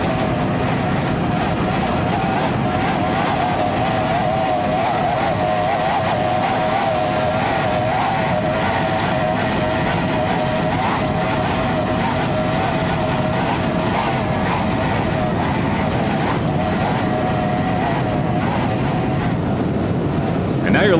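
Racing powerboat engines roar steadily during an offshore grand prix, a continuous loud drone with a wavering tone, heard under a commentator's talk.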